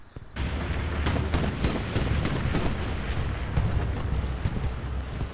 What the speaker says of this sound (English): Sending bombing run.